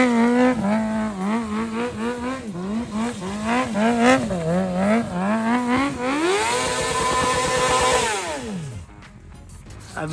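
A Honda CBR600RR sport bike bought for $100 revs hard and loud during a burnout. Its engine pitch climbs sharply, holds at a high scream with a rough, squealing edge, then falls away near the end.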